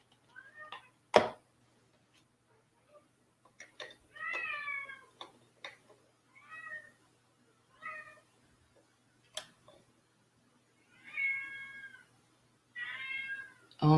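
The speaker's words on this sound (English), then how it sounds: "my goodness, that cat." A cat meows repeatedly in a quiet room where acrylic paint is being poured, with several short and drawn-out meows spread across the stretch, moderately close, along with a couple of sharp clicks and a faint steady hum.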